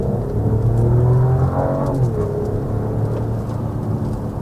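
Mercedes-Benz E 450 with a turbocharged 3-liter inline six climbing a steep Vancouver hill, engine note rising then easing after a shift, a smooth muted hum heard from the cabin with no talk.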